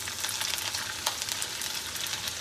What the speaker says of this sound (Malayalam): നമുക്ക് അതിലേക്ക് ആദ്യം തന്നെ ഇഞ്ചി ഇട്ടുകൊടുക്കാം